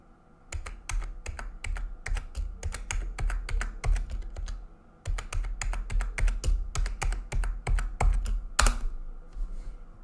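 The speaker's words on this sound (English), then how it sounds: "and I will type in a new PIN here." Brisk typing on a computer keyboard as a new Windows Hello PIN is entered, with steady close keystrokes in two bursts, a brief pause between them and a final louder key press, with no voices.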